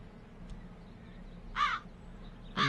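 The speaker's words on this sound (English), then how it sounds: "Another crow." A crow in the video game The Dark Eye: Chains of Satinav gives two harsh, raspy caws about a second apart, clear and fairly close over a faint low ambient background.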